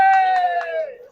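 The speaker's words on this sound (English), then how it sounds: "Sarcastic cheer from the Tarpon fans" A single drawn-out voice from baseball fans of the Tarpons, a falling, mocking cheer that rises sharply, then slides lower and fades over about a second, close and clear with no other crowd noise.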